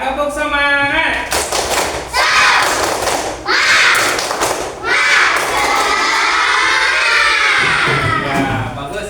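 A classroom of children doing a rhythmic clapping cheer, with loud patterned claps mixed with excited shouting voices, close and energetic throughout.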